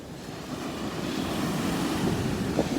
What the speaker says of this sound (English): over there you can see the waves crashing